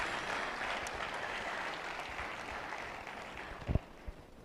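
A university audience applauds in a steady, dense wash of clapping that gradually thins out, with a couple of sharp thumps near the end.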